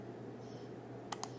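Two quick computer mouse clicks land close together near the end, crisp and nearby over a steady low room hum, with no one speaking.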